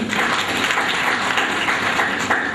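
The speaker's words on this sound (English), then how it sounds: "give her a great cheers by clapping all of us" Audience applause at a hall gathering for a continuing medical education event, a steady dense wash of many hands clapping throughout at moderate distance, with no voices over it.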